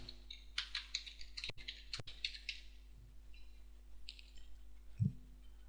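Light, quick keystrokes on a computer keyboard as alternate text is typed in, close and quiet, with a couple of sharper clicks partway through and a low steady hum underneath.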